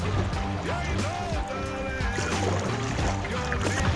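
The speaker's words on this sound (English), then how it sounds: "let's just paddle like we're doing" Canoe paddling on a river, with steady water wash and splashing throughout, broken by scattered bumps and knocks, close by.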